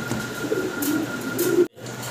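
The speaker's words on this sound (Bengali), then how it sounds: "শ্যাডেল গোল্লা কবুতর।" Fancy Shadel Golla pigeons coo softly in low, rolling bursts, with a faint steady hum in the background and a brief cut near the end.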